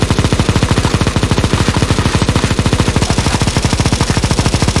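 Sustained rapid automatic gunfire from CS:GO Zombie Escape as players shoot zombies, a loud, dense, steady machine-gun stream of evenly spaced shots running nonstop throughout with no talk.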